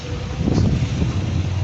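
Steady gusty wind buffeting the microphone outdoors, a low rumbling roar that swells briefly and stays constant throughout.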